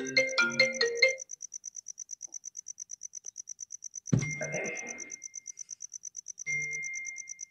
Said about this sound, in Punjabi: ਇਸ ਵੇਲੇ ਕੌਣ ਕਰੀ ਜਾਂਦਾ ਫੋਨ?